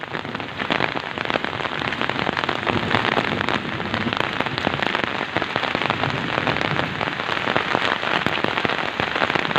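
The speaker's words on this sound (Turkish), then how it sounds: "Müthiş şekilde şu an köyümüze yağmur yağıyor." Heavy rain pours down steadily on a village, a dense continuous hiss of drops pattering on surfaces with no pauses.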